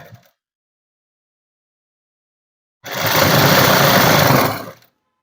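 A sewing machine stitches folded net dress fabric against its lining in a single loud, steady whirring run of about two seconds, starting abruptly after a long silence and stopping cleanly.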